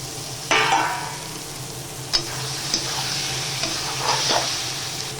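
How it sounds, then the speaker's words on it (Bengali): Fried potatoes are tipped into sizzling masala and stirred, a continuous frying hiss broken by several scraping clatters of the spoon against the pan, close and without talk. "এবারে এর মধ্যে আলুগুলো দিয়ে দেবো ভেজে রাখা আলুগুলো"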